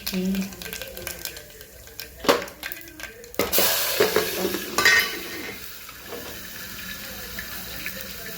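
Mustard seeds and cumin crackle and sizzle in about three spoonfuls of hot oil for an onion-potato curry, a soft scattered popping that swells into a louder burst of frying partway through.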